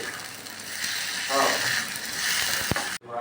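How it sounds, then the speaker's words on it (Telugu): Ginger garlic paste frying in a pan for chicken pulao, a continuous close sizzle with clattering and scraping of a utensil, then a sharp knock before an abrupt cut to silence. "అల్లం వెల్లుల్లి పేస్ట్ వేగిన తర్వాత"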